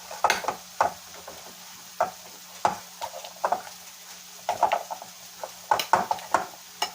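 Enchilada filling of cheese, chili and chicken breast stirred and mixed in a pan, with repeated close scraping and clacking of a utensil in irregular bursts over a faint background hum.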